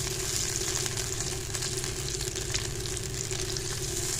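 Cardamom, small and large pods, frying with a blended tomato masala for egg korma, giving a steady, close, dense sizzle with a low hum beneath it throughout, with no talk.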